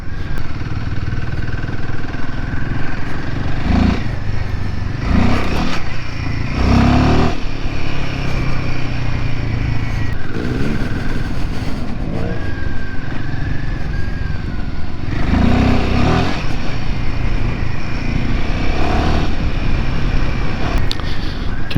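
A Royal Enfield Himalayan 450 motorcycle engine rumbles loudly and continuously on a muddy downhill descent, its revs rising and falling in repeated surges, with wind buffeting across the whole clip.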